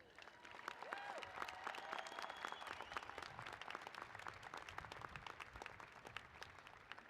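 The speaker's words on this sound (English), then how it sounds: "Please join me in one more round of applause for today's Maritime College graduates." Sustained applause from a commencement crowd honoring SUNY Maritime College graduates, steady dense clapping filling the hall for several seconds, with a few faint tonal sounds above it.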